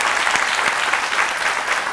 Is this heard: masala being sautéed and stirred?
no